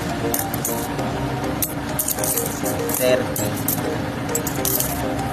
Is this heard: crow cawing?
no